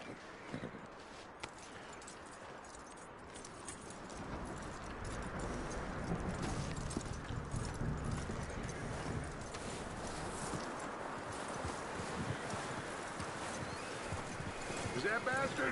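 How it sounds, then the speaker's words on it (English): Horse hooves clip-clop at a walking pace in Red Dead Redemption 2, soft and fairly distant under wind-like ambience and spoken dialogue, growing a little fuller partway through. "That looks like a decent horse."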